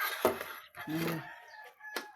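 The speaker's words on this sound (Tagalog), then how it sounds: "May nangayog manok oh." A short rooster crow, slightly distant, with a brief clucking burst at the start.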